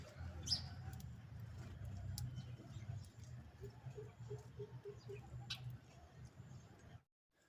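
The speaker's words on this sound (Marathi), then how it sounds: "इथं कंटिन्यू चिमण्या असतात आणि त्यांचा चिवचिव चालूच असतो" Sparrows flock to eat scattered rice at a home, giving soft, faint chirps and twitters over a low rumbling background, with quiet fluttering before the sound cuts off abruptly.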